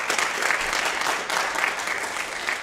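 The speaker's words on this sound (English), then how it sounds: "So we'll give everybody a round of applause for pitching to an audience." Audience applause following student pitches at a school pitch fest event, a steady wash of clapping from a crowd filling the room, continuous and moderately loud throughout with no talk over it.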